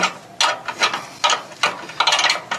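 A screw being tightened on a solar panel roof mount during a rooftop 5.2 kWp kit installation: about seven sharp ratcheting bursts in an irregular rhythm, close and fairly loud, with no talk.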